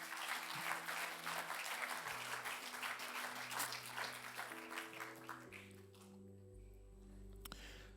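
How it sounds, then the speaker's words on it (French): At an Easter Sunday church celebration, a congregation applauds in a fairly quiet room. The clapping runs with a sustained tone underneath, then gives way to organ or keyboard chords near the end. "J'aimerais entendre un grand applaudissement à ceux qui croient à ces choses-là."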